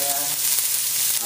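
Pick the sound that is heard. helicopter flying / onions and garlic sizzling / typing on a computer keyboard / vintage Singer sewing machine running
onions and garlic sizzling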